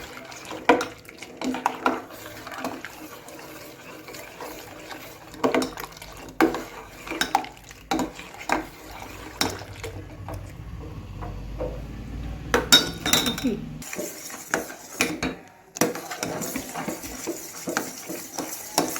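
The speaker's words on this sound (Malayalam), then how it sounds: "എന്നിട്ട് നല്ലതുപോലെ ഒന്ന് മിക്സ് ചെയ്ത് കൊടുക്കണം" Bread pudding ingredients with brown sugar being mixed in a pan: a spoon clinks and scrapes in uneven bursts, with wet stirring sounds and a brief louder clatter near the end.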